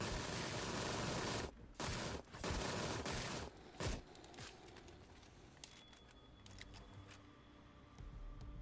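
Rapid bursts of PPSH submachine gun fire from the video game Sker Ritual come as loud, dense automatic volleys at first, then fade into quieter game ambience with a few scattered sounds.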